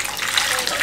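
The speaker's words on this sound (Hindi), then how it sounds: "पानी डाल दें" Water gushing steadily into a pan of grated bottle gourd with salt, a loud continuous splashing pour throughout.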